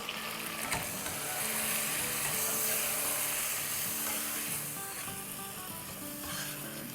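Ginger, garlic and green chili paste with salt sizzles steadily in hot oil in a pan while being stirred, a loud close crackle with occasional scraping and no talking.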